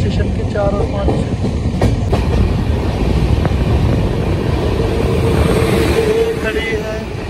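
A passenger train rumbles loud and close at a platform of Indore railway station, with a continuous heavy roar, faint rail clatter and a few distant horn-like tones.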